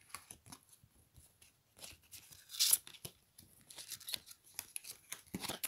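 Tarot cards are drawn and shuffled close up, a run of quick papery flicks, snaps and slides at an uneven pace with one sharper burst near the middle, quiet and with no voice.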